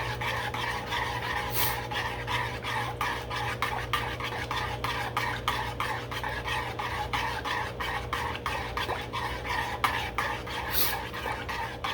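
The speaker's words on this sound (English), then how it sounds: "Get a good stir on it, or you can use a whisk, however you want to do it." BBQ sauce is stirred in a pot, a steady run of quick rhythmic scraping strokes from the utensil against the pot, close and moderately loud, with no talking.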